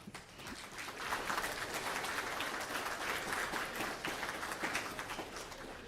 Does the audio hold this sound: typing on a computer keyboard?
no